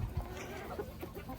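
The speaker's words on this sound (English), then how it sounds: "This is a rooster right here too." Backyard flock of chickens and several roosters, including Silkie birds, clucking nearby. Soft, scattered clucks come in short bursts over a low outdoor rumble, with no clear talk.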